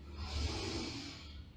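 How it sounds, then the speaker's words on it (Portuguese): A single slow, deep breath is drawn in and released audibly in a soft, close whoosh during a meditation breathing exercise. "inspirando pelo nariz, soltando pela boca com som"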